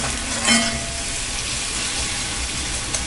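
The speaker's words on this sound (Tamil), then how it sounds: "நல்லா வதக்கிக்கோங்க" Tomato with salt, turmeric and chilli powder sizzling and frying in a pan, a steady close hiss with a brief stir near the start.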